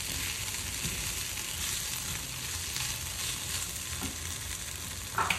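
A chicken and onion quiche filling fries in a pan with a steady, close hiss and crackle that holds evenly throughout, with a small clink near the end.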